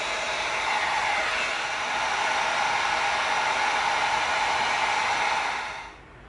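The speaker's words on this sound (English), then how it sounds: "now we're going to get our heat gun out and we're going to seal that up" A heat gun blows a steady, loud hiss of hot air to seal shaped EVA foam for a prop gun, holding constant for about six seconds before cutting off near the end.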